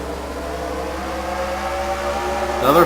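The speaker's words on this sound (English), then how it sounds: "Drivers, start your engines!" Race car engines start up in a NASCAR racing video game, a loud sustained engine drone with rising and falling harmonic whine, ending with a brief burst of sound.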